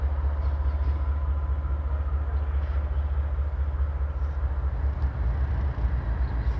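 CSX freight locomotives roll slowly through the east leg of a railway wye with a conductor riding the rear unit, giving a steady, heavy low rumble and drone throughout, close by and unbroken, with no talk.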